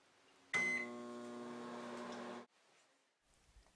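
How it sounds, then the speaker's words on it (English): A microwave oven hums steadily for about two seconds while melting glycerin soap, starting with a click and ending abruptly, with a faint clatter afterward. "Then we will microwave the soap for about 40 seconds."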